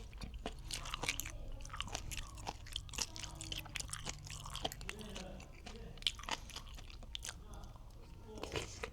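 Someone eats crab sticks, and close-up crunchy chewing and biting noises repeat steadily at a quiet level, with faint murmured talk in the background.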